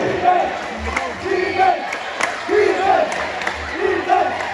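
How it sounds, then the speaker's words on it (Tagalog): Spectators at a junior basketball game shout for their teams. Rhythmic, chant-like cries rise and fall in repeated bursts from a lively crowd indoors. "the crowd is shouting for their teams"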